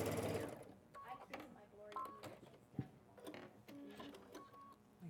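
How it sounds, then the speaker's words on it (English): A home sewing machine stitches in short, rhythmic mechanical bursts with clicks and whirring, fairly quiet and close, with no talking over it. "Oh, yeah, my sewing machine."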